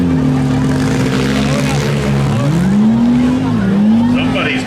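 Mini cars in a demolition derby heat at Beeton, Ontario, engines droning and revving with rising and falling pitch, close and loud, over rough crowd and track noise.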